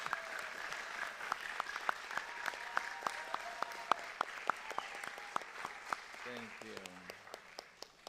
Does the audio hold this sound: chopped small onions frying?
no